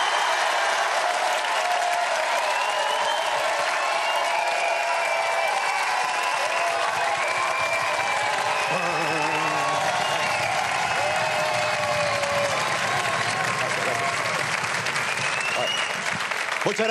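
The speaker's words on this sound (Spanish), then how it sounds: "Qué ovación más injustificada." Sustained studio audience ovation on a late-night talk show: loud, dense clapping with cheers and whistles running unbroken, a voice briefly heard over the crowd near the middle.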